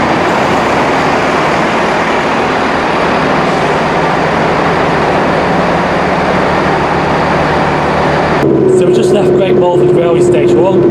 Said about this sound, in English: Great Western Railway class 166, 166, 216. It's going to take us to Worcester Foregate Street